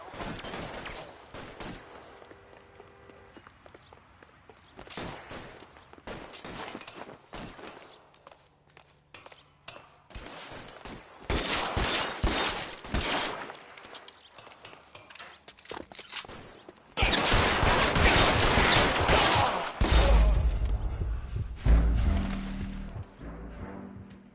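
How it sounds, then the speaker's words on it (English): Gunfire in the L.A. Noire video game, with scattered single shots early and then sustained loud bursts of rapid fire, plus footsteps between volleys. "All units, shots fired."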